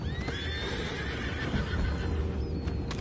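A horse whinnies in Red Dead Redemption 2 with a high, wavering neigh over a busy low background, with faint hoof clops nearby.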